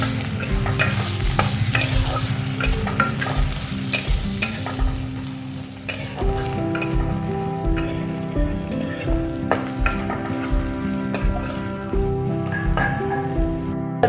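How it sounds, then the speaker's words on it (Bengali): Radish being stirred into a frying vegetable curry with prawns, made with Malabar spinach seeds, a steady close sizzle with repeated spatula scrapes and clicks against the pan throughout. "মূলা দিয়ে আমি ভালো করে একটু নাড়াচাড়া দিয়ে দেবো।"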